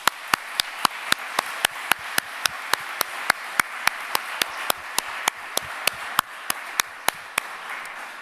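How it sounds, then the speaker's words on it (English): Single, evenly spaced sharp claps ring out one after another in a slow steady rhythm, about three per second, crisp and fairly close in a large conference hall. "this is an applause, I think"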